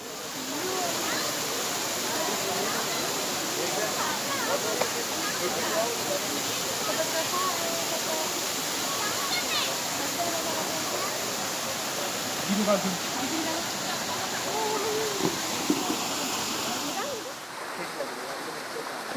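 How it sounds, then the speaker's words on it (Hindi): Waterfall at Dalhousie rushes steadily as a dense broadband roar that stays even throughout, with faint voices in the background and a slight drop near the end. "तो ये है मशहूर डलहौसी की वाटरफॉल"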